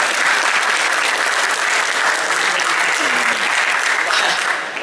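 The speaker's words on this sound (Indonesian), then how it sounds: "boleh minta tepuk tangan dulu?" A studio audience at a comedians' roast event in the Indonesian parliament breaks into loud, dense applause that holds steady and close for the whole stretch, easing off slightly at the very end.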